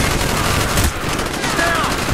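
Dense, continuous gunfire rattles through a firefight in Call of Duty: Black Ops, a steady loud wash of machine-gun fire support with no clear gaps between bursts.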